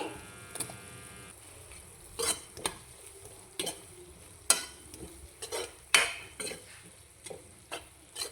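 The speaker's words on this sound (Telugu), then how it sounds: "ఇప్పుడు బంగాళదుంపలు వేస్తున్నానండి" Potatoes stirred in a frying pan for potato curry: soft sizzling under repeated sharp scrapes and knocks of a spoon against the pan, close and irregular, with no talk.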